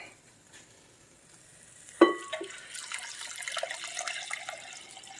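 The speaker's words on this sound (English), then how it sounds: "That's when you know it's time to add the liquid." Liquid poured into a cooking pot of lentils and mushrooms, beginning with a sudden splash and settling into a steady, moderately loud trickle and bubble, close up, with no talking.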